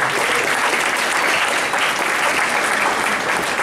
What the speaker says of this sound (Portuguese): salva de palmas para a Soninha